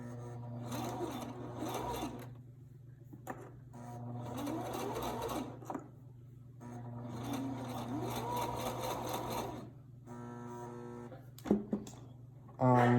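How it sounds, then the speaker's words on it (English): A sewing machine stitches a cloth face mask in repeated steady bursts of rapid mechanical whirring, separated by brief pauses for a few stitches and a back stitch, close and alone. "I'm going to sew a few stitches and then back stitch to lock it."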